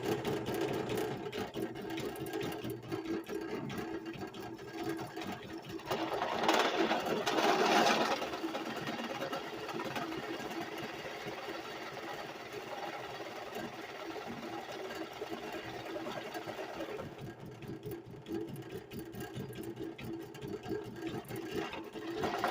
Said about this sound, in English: so it takes a little bit to drill a hole whenever, but if you do it slowly, you won't burn your bits up.